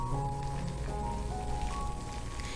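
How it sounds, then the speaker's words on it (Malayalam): Boiling water poured from a kettle over almonds in a bowl, a steady broadband splashing stream with no speech. "ഇനി ഇതിലേക്ക് തിളച്ച വെള്ളം ഒഴിച്ചു കൊടുക്കുകയാണ്."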